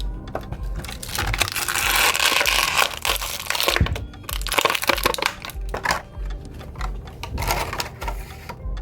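Plastic and cardboard packaging of a Jakks Pacific 2.5-inch Sonic the Hedgehog figure being torn open and crinkled up close, with dense, continuous rustling and crunching and a few sharper snaps, no talking.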